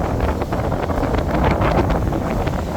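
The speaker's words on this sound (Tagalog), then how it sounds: "Taas ng hangin." Strong wind at sea buffeting the microphone from aboard a boat, a loud continuous roaring rush with gusty fluctuations and no talking.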